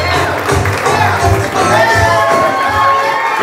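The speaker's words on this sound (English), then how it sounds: "Another big round of applause." A wedding reception crowd cheers and applauds loudly after the couple's first dance, a dense, continuous roar of clapping and shouts with no clear breaks.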